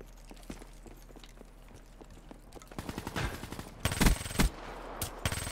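Shotgun blasts in Black Ops 3, scattered sharp shots with a dense cluster of loud bursts near the end, over faint game background.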